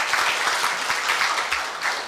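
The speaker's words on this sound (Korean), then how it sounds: "우리 배우미 사장님께 다시 한번 큰 감사의 박수 부탁드리고요" A roomful of people at a university staff retirement ceremony clap in thanks, a steady, fairly loud round of applause with no talking over it.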